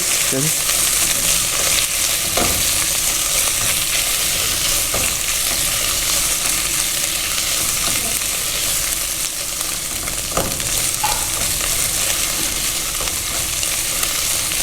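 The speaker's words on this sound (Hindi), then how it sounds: "इसको हम गार्लिक में सौते करेंगे।" Chicken sautéing in a pan of browned garlic gives a steady, loud sizzle and frying hiss throughout, with occasional stirring clicks and scrapes and no talk.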